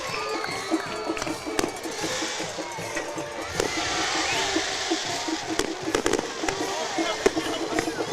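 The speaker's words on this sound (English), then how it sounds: "we had a firework explode really low to the ground" A firework bursts low to the ground on a hillside beside a high school football game, giving sharp cracking pops and crackles over a crowd murmur at moderate distance.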